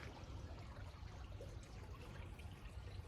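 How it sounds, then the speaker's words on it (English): A backyard water fountain at a California mid-century home trickles and splashes steadily, a soft continuous burble of falling water with no talking. "There's a water fountain over there, which you might be able to hear."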